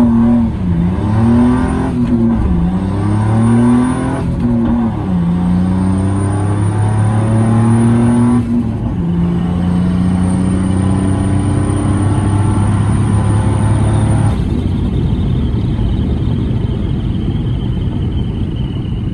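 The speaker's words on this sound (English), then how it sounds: "With the hood off, all the turbo flutter." A turbocharged 4.3 V6 truck with the hood off runs on octane booster at a dragstrip, its engine note rising and dipping through hard pulls before dropping to a rough, fluttering idle-like rush, loud and close.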